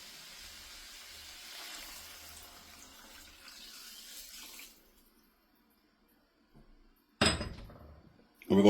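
Broth and water poured into a pot of rice for dirty rice give a soft, steady liquid splash that cuts off midway, followed by a quiet pause and then brief, louder clatters near the end.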